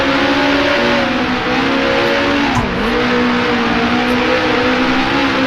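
The engine of a 1966 race car in Grand Prix Legends, driven in the Tasman Series finale at Bathurst, drones loudly and continuously, the pitch dipping briefly and then climbing again.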